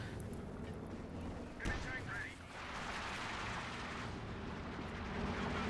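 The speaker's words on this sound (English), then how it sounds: "going in, Stuka opening fire" Stuka dive bomber opening fire in the strategy game Company of Heroes, a sustained roar of gunfire and blasts beneath a commentator's continuous speech.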